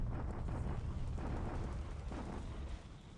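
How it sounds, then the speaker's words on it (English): Naval bombardment explosions in the strategy game War in the Pacific, a faint, continuous low rumble of distant blasts with a few soft thuds, no talk. "bombardment at Palembang"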